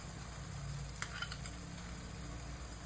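A spice paste of ginger, green chilli, garlic and yogurt sizzles steadily in a pan, a constant close frying hiss with a couple of faint stirring clinks and no voices.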